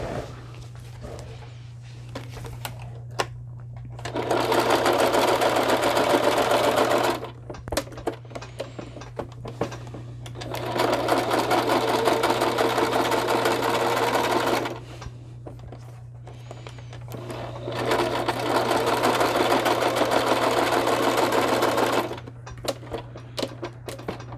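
A sewing machine sews tucks into fabric in three sustained runs of rapid mechanical stitching, each several seconds long, with quiet gaps of handling noise and a steady low hum underneath.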